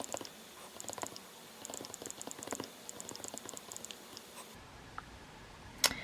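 Fingers tap steadily on a computer keyboard, a quick patter of close, light key clicks, while a study note's name is typed, then trailing into quieter room tone with one sharp click near the end.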